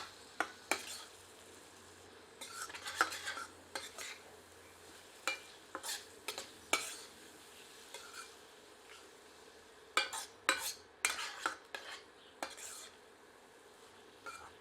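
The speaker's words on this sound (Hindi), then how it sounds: "सबको मिलाते हैं और 2 मिनट मध्यम आंच पर भूनते हैं" Potato and cauliflower with ground spices being stirred and roasted in a pan over medium heat, a soft sizzle under repeated sharp scrapes and clinks of a spoon against the pan, coming in irregular bursts.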